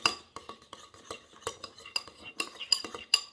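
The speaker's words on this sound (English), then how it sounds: "you have garlic and everything, so we need to stir it up" A spoon stirs deviled egg filling with garlic in a bowl, making quick, close scraping and clinking strokes in an uneven rhythm, with no speech.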